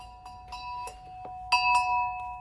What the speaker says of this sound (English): that metal collar makes a good bell